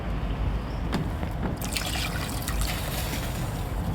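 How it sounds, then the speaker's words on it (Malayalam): Water pours steadily into a pot with a soft trickling splash that continues unbroken for several seconds over light background noise. "വെള്ളം ഒഴിക്കാം"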